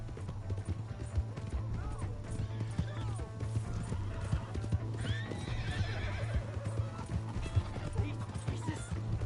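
A horse in the video game Red Dead Redemption II gallops with rapid rhythmic hoofbeats and lets out a whinny, while characters shout over the action and background music plays.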